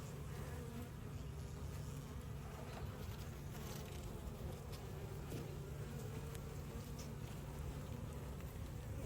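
Honeybees buzz steadily and densely through an open hive during an inspection, a close, continuous insect drone with a low hum and faint wind noise beneath it.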